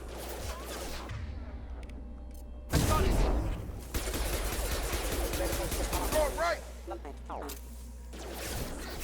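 Gunfire in the video game Mass Effect 2, with rapid bursts and volleys crackling among combat noise while voices talk over the shooting.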